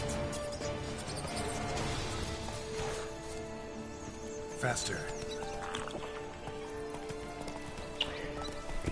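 Horse hooves clip-clop steadily with a whinny from a mount in The Witcher 3: Blood and Wine, mixed under steady game ambience and background talk, with a few sharper knocks midway.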